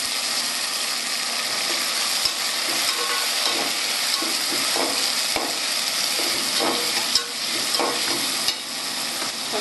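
Tomatoes fry in hot oil for a Tamil-style prawn curry, a dense continuous sizzle and hiss close up, broken by occasional scrapes and knocks of a stirring spoon, no voices.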